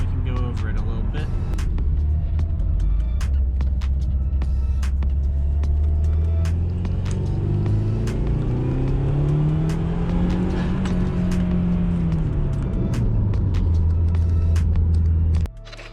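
A Subaru WRX drives on the road, heard from inside as a steady low engine rumble that rises and falls in pitch as it accelerates and shifts, with small clicks and rattles and people talking over it.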